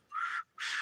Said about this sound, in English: What was that? That little whistle?